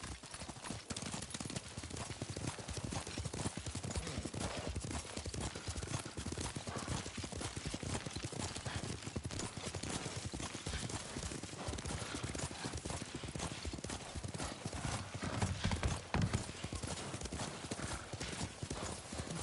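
Horse hooves clip-clop in a steady, continuous gallop while riding in Ghost of Tsushima, with occasional whinnies close by and loud throughout.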